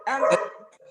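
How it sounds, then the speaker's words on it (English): A single close bark from a dog that can see rabbits outside, loud and brief, trailing off quickly into a faint yip. "apparently my dogs can still see the rabbits outside, so my apologies for the barking."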